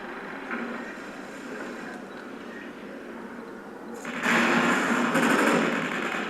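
Weapon fire in the video game Call of Duty: Ghosts sounds as a quiet rumble, then a louder burst of rapid gunshots erupts near the end and sustains for about two seconds.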